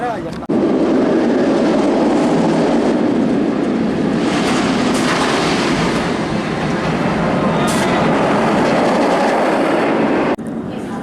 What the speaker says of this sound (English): Dragon Khan is one of the noisiest roller coasters I have ever heard